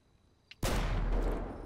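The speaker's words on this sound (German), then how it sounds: "Nee, ist gerade mal explodiert, ein Gastank!" A sudden loud gas tank explosion in GTA bursts in after near silence, followed by a sustained roaring rumble that slowly fades.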